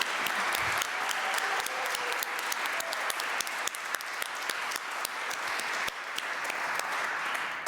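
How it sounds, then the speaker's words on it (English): Sustained applause from a room full of people at a church conference, dense and even clapping that carries on steadily from start to finish. "So if we can all give her a round of applause."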